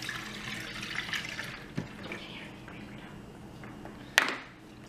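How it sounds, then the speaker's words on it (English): Milk pours and splashes into a blender for a few seconds, ending with a sharp knock and a brief clatter. "let's pour some milk in there."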